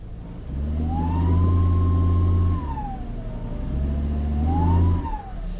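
Volvo turbo car engine spooled up under load on a test drive, revving in two strong rising-and-falling sweeps with a steady whine riding above, loud and close with no talking.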